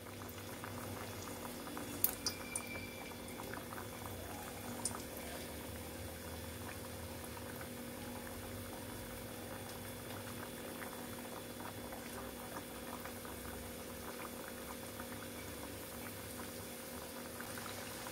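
Masala mathri snacks made with roasted chana frying gently in oil on a low flame, a soft continuous bubbling and fizzing that stays even and fairly quiet throughout.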